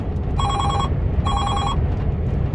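A phone rings twice in an even double-burst pattern inside the cab of a Mercedes Actros HGV truck, clear over a steady loud engine and road rumble.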